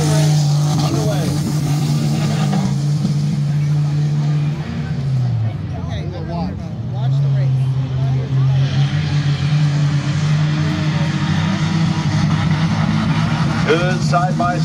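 Stock cars race in a chain team race at Midvale Speedway, a steady roar of engines passing and revving under continuous loud announcer commentary.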